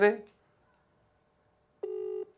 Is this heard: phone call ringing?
yes